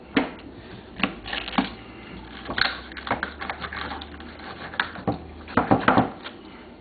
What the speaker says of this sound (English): cut the wing off, cut the fin off it.